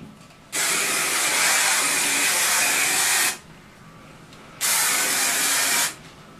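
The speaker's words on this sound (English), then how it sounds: "hairspray it. I mean hairspray it right away" Hairspray misted onto freshly shaken-out curls in two long bursts, a loud close hiss lasting about three seconds, then a pause and a shorter second spray.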